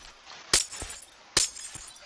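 Glass panes shatter in Minecraft, three sharp breaking crashes spaced about a second apart, each with a short clinking tail, loud and close with no talking.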